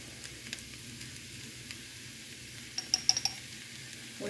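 Cabbage cooks quietly in a pan with a soft, low sizzle, joined near the end by a few light clinks of utensils against cookware.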